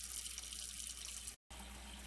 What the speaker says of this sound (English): So now I'm going to go ahead and fill this with water.